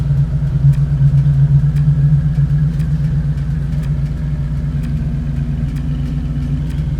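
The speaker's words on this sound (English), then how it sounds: "The tone slider changes the idle sound for your car." A car engine idling in the video game Need for Speed Heat, a steady low, even rumble with faint periodic clicks, continuous and close.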